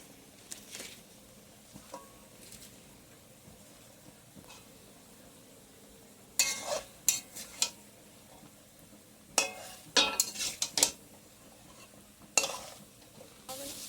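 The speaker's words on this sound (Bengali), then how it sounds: "এবার আমি পুঁই শাকগুলো এর মধ্যে দিয়ে দেবো, দিয়ে নাড়তে থাকবো।" Malabar spinach is stirred in a pan, a faint low sizzle broken by bursts of scraping and clattering utensil strokes against the pan, clustered and irregular, close by.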